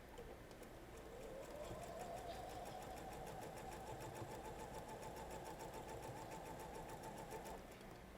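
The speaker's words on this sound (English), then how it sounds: "And I'm going to start sewing." A sewing machine stitches quilt pieces, running steadily, its needle clattering in a fast even rhythm, close and quiet, with no talking.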